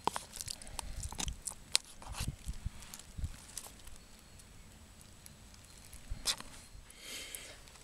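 Chewing and biting on pasta bolognese from a self-heating ration meal, heard as close, uneven soft crunches and mouth sounds in bursts, with quieter pauses between and no talking.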